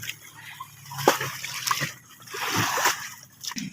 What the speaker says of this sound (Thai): L4018 ของเรานะครับ มาล้างรถนะครับ